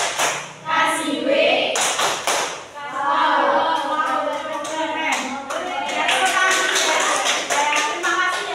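A third-grade class at a microteaching lesson performs a rhythmic clapping chant, sharp in-time claps punctuating children's voices chanting along, loud and close, with claps bunching into quick rhythmic bursts toward the end.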